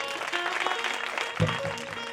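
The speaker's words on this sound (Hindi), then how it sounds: "एक बार सभी के लिए जोरदार तालियां।" Audience applause at a Hindu Bhagavat Katha religious gathering in Bisapur Kalan, Chhindwara, a steady wash of clapping from a crowd that carries through the whole moment at a fairly even level.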